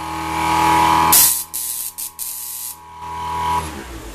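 A rotary spark gap transmitter at an amateur radio exhibit sounds a steady musical tone, loud and sustained for about four seconds, with bursts of crackling hiss and brief dropouts partway through.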